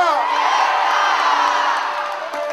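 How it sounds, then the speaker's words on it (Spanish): Crowd at a Puerto Rican salsa concert shouting "wepa" in a sustained, loud collective yell, with cheering and whoops blending into a continuous roar. "Si eres boricua, grita huepa."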